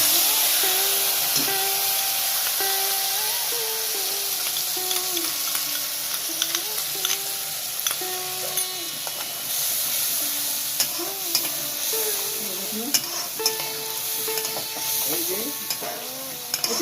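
Whole cardamom, cinnamon and cloves crackle in hot oil before spice paste is added and stirred for a Bengali katla fish kalia, giving a loud continuous sizzle with scraping stirs, while a voice speaks intermittently over it.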